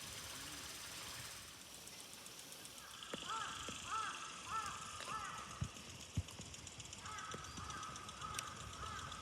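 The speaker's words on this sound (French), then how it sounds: "C'est un corbeau." Crow cawing in Hamamatsu Flower Park in Japan, with a series of harsh caws in short groups over outdoor background noise and a faint voice, moderately distant.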